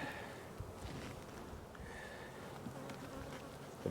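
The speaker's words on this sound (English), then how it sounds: "The bottom box has bees as well" Honeybees buzzing in an open hive box during an inspection: a soft, steady, continuous hum, faint and close, with no talking.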